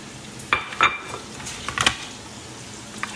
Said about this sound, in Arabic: نحط الفلفل البارد او الرومي ونقلبهم